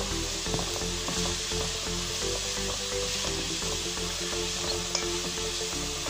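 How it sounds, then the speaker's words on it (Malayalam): Chopped onions sauté in hot oil for chatti pathiri filling, producing a steady, moderately loud hiss and sizzle with a few faint pan knocks and no talking. "ഓയിൽ ചൂടാകുമ്പോൾ അതിലേക്ക് മുറിച്ചു വെച്ച സവാള ഇടാം ഇതിനെ നന്നായി വഴറ്റുക"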